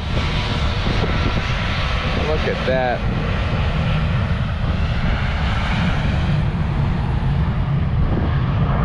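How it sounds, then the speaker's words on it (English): Loud, steady roar of an airplane taking off at an airport, continuous and close. Someone speaks briefly over the noise. "check out this plane. It's about to take off."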